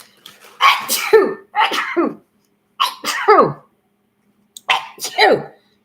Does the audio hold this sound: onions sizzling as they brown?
no